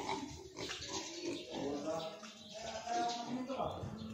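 Pigs on a farm grunt and oink in overlapping bursts close by, a busy pen chorus running throughout with some mixed background noise.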